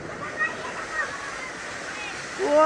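A tube well gushes water at high pressure, a steady rushing splash heard close by, with voices talking and shouting over it.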